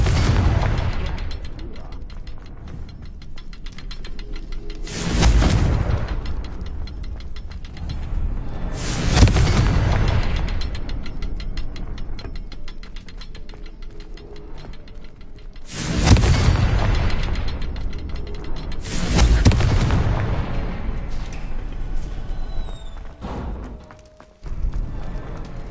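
Confringo blasting spells in the Hogwarts Legacy video game burst in four loud explosive blasts spaced apart, over a steady mechanical game background.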